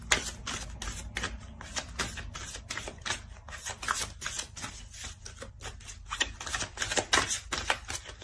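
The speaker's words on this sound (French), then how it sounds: "Je vais rajouter une carte." Tarot cards handled and laid into a spread, a dense run of quick papery flicks and riffles that carry on without a break for about eight seconds, close and fairly soft, with no talking.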